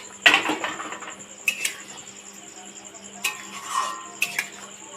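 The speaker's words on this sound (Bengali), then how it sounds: "ঢাকনাটা খুলে একটু দেখে নেবো" A metal lid on a cooking pot of eggplant and potatoes is lifted and handled, giving several sharp clanks and rattles spaced a second or so apart over a quiet background.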